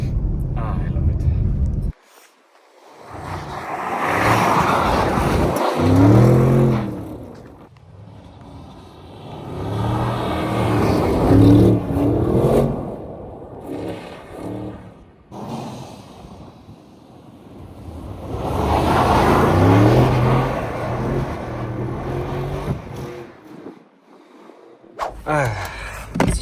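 An Audi RS6 C8 drifts through snow in winter, its engine roaring in long surging swells with wind buffeting the microphone, the revs rising and falling through repeated slides; a voice talks briefly over it.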